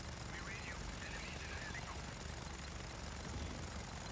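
A helicopter flying in the video game Just Cause 4, a steady loud rotor and engine drone filling the whole clip without a break.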